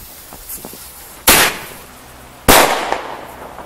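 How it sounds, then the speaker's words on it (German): Two sharp Thunder Kong Max firecracker blasts set off from a bike pack outdoors on New Year's Eve, each a loud broadband bang with a decaying tail, about a second apart. "Kommen wir zur Zündung der Thunder Kong Max aus dem Bikepack."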